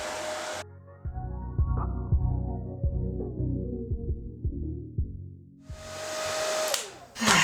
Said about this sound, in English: I don't know how people do an hour under the hood dryer